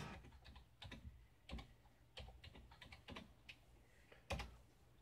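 Someone types a command on a computer keyboard, giving a quiet, close run of irregular key clicks with a few heavier strokes, and no voices.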